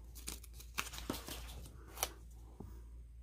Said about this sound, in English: I'll cut the yellow off